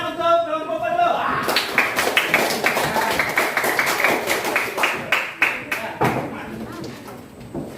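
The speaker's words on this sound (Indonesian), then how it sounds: "Tepuk tangan untuk kelompok 4 dulu." Students in a mathematics classroom clap for the fourth presenting group, a lively round of close, uneven claps that starts abruptly and gradually tapers off.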